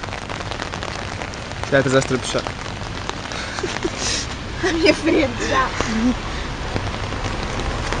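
Rain falls steadily on a street, a dense continuous patter of drops on the pavement, while people talk over it in short exchanges.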